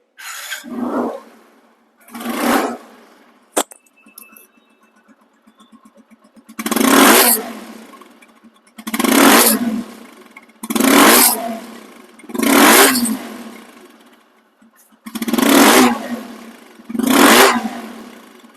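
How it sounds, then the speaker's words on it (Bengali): A motorcycle engine idles quietly between loud revving bursts, about seven sharp throttle blips with short pauses, recorded close up. "বাইকটি চলা সাউন্ড কোয়ালিটি শুনুন"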